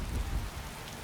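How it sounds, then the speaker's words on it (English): Steady rain hisses in the Skyrim video game with the Requiem mod, a dense continuous wash with low rumbling underneath and no voices. "I don't care about the rain"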